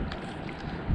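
Strong wind gusts across a lake while fishing, a rough, blustery rush buffeting the microphone, with no voices.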